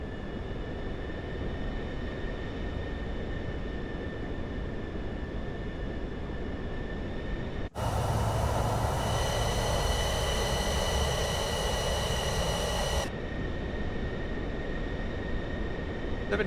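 A PC-24 business jet in a flight simulator rolls for takeoff on a 7,200-foot runway, a steady broadband engine roar rising to a louder, brighter whine with thrust for several seconds before easing back, continuous and close.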